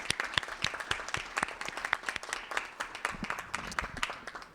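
A small group at a Seattle school board meeting claps in a room, sparse, uneven individual claps close by rather than a dense roar, continuing steadily for several seconds.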